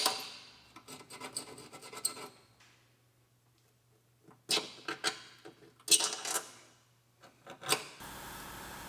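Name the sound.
scraping rust off a rotted steel frame rail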